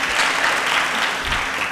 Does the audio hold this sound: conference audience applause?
yes